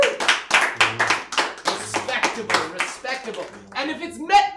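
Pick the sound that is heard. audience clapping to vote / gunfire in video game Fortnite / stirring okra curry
audience clapping to vote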